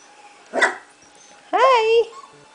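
Young puppies give a short yip and then a longer, higher whining bark, close and separated by a quiet pause.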